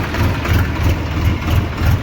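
A low, steady tractor engine idling close by, its deep rumble pulsing evenly throughout with no voices.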